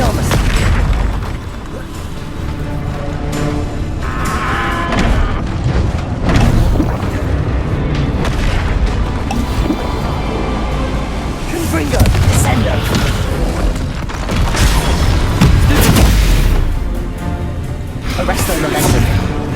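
Confringo fire-blast spell explosions in Hogwarts Legacy go off as repeated loud, deep booms over a busy, continuous battle din, with game voices mixed in.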